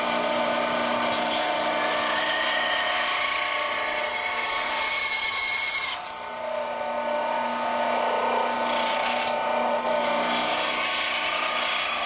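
A bandsaw rips through a rough wooden block, trimming bulk off before carving: a steady, loud, buzzing whine that dips briefly twice as the blade load changes, with no talking.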